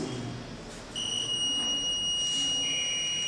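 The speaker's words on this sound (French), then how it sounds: "le buzzer sonne pour signaler qu'il y a un mouvement" A shrill electronic buzzer from a smart-home motion sensor alarm starts up and sounds continuously as a steady high-pitched tone, fairly close and loud over quiet background noise.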